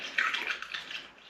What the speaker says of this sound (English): just gently pour that in